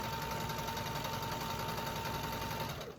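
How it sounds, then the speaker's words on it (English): A sewing machine stitches a fabric hair scrunchie seam in one continuous, fast, humming run heard close but fairly quiet, easing off just at the end. "And I just sew around until I can't sew anymore"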